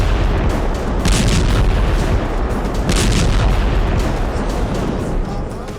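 Continuous loud rumbling bombardment near hospitals in Gaza, with repeated heavy booms and blasts blending into a dense, sustained roar throughout.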